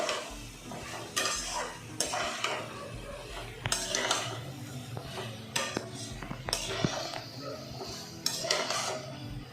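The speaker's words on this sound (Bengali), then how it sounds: "দিয়ে নাড়িয়ে দেবো।" Vegetarian elephant foot yam curry is stirred in a pan, with repeated scraping strokes of a spoon against the metal, occasional clinks, and a soft sizzle of frying underneath, close and moderately loud.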